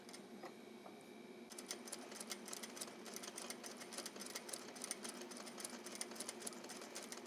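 A Juki DDL-8700 industrial sewing machine runs close by, stitching fabric in a fast, even mechanical chatter after a brief quieter start.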